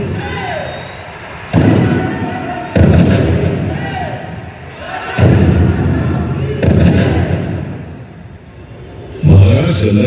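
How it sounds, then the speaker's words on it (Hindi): A cannon salute at Jhansi Fort's light and sound show: about five deep, booming blasts at irregular intervals, each rolling on with a rumbling echo, mixed with the show's sound effects and narration. "महाराज गंगाधर राव को कनक बिजली और भवानी शंकर नाम की तोपों से सलामी दी गई।"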